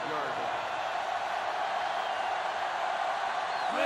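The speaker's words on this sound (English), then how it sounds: "This sellout crowd is really making a difference now as these guys can't even call the play." Stadium crowd roar at a 1946 Army at Notre Dame college football game in a video game, a dense, loud, continuous wash of noise with no breaks.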